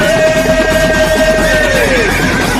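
A white horse lets out one loud, drawn-out neigh that holds steady and then falls away at the end, set within a Tamil devotional song to Madurai Veeran.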